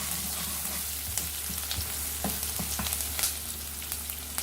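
Chopped onion frying lightly in a pan for a chana and toor dal tadka, a steady soft sizzle with small crackles and occasional stirring clicks, close and continuous with no talk.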